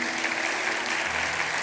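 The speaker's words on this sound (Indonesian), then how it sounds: "Kasih tepuk tangan untuk Tuhan." Church congregation applauding, a steady dense wash of clapping filling the whole short stretch at even loudness.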